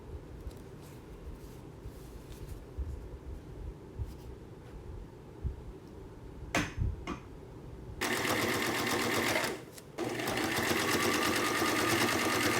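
A sewing machine runs in a steady, loud burst, zigzag stitching the inside seam of a triangle insert on a thrifted upcycled garment, after quieter handling sounds, with a short pause midway.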